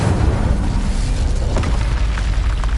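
Fiery magical blast from the Incendio fire spell in Hogwarts Legacy, a loud sustained roaring burst with crackling booms throughout, dense and close with no pauses.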